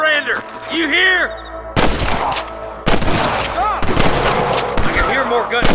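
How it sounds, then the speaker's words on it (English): Rapid bursts of gunfire in Red Dead Redemption crack loudly over music and shouting voices, with several volleys in quick succession. "I can hear more gunshots."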